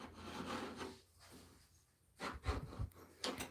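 IRWIN folding chisel scoring a wooden surface: several short rasping scrapes in bursts, close and moderately loud, with quiet gaps between strokes.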